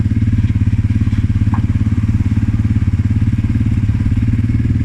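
A Forte 300 motorcycle engine idles loud and close with the throttle held slightly, a steady rapid thumping pulse that stays even and unbroken from start to finish.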